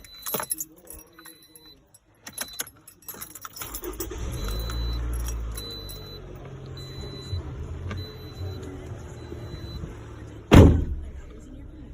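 Keys jangle and a door thumps before a 2010 Toyota RAV4 four-wheel-drive engine cranks and settles into a steady idle, close by, with a sharp slam near the end.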